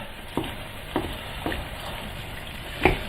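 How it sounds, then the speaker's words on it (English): A spoon stirs chicken Madras curry with pumpkin in a pan, making soft scraping strokes about every half second over a steady background sizzle, ending in a sharper clink against the pan. "give all that a good stirring"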